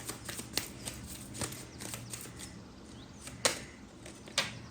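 A tarot card deck being shuffled by hand, with soft continuous riffling and a few sharper card snaps, fairly close and quiet.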